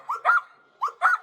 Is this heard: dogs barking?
yes